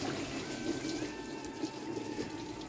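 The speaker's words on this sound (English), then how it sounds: "And coolant will flow." Coolant drains from a pulled radiator hose on a Volkswagen 1.6 MPI engine: a steady, fairly quiet trickle and splash of liquid that runs without a break.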